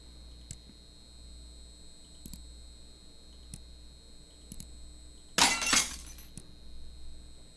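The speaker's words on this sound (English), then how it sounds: "I think I accidentally smashed breakfast." Breakfast smashed in the Kyle Is Famous video game: after several soft ticking clicks, a single loud glassy shattering crash bursts out, then quiet clicks resume.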